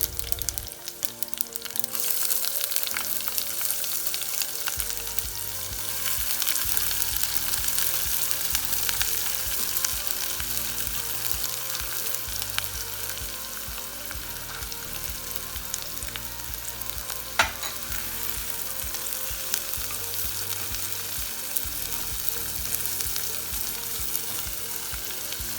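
Chopped onions frying in hot mustard oil with bay leaves and garlic, a continuous loud sizzle with crackling bursts and occasional stirring, close up and heard alone throughout.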